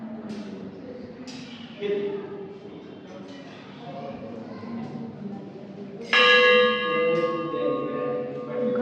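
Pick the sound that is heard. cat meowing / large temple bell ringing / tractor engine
large temple bell ringing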